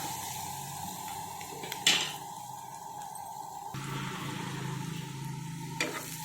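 Tempering spices sizzle steadily in a pan for a broad beans and tomato curry, with a sharp stirring clank near the start and another near the end, the fry hiss thickening midway.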